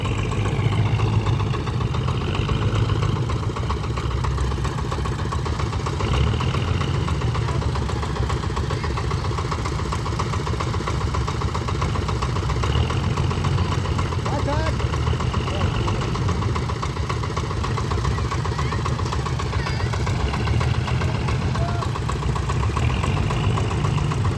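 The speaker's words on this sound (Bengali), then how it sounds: "এটা বড় ডিপ টিউবওয়েলের ইঞ্জিন, জমিতে।" A heavy deep tubewell pump engine in a field runs continuously at a steady idle, a loud low droning rumble with constant mechanical throb that never changes pace.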